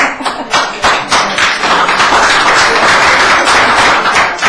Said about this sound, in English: I'll just share something with you about the clapping.